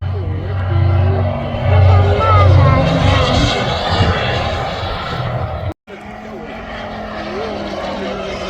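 A propeller aircraft comes down onto the runway at the Elvington airshow, its engine droning loudly and steadily before a brief dropout. A commentator talks over the engine noise throughout.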